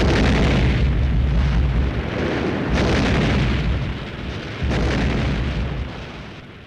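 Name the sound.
ammunition dump exploding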